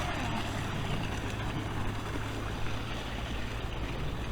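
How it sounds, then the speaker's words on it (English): A little brook runs through Monkmead Wood, a steady close wash of flowing water with a low rumble underneath, continuous and even throughout with no talking. "this little brook running through"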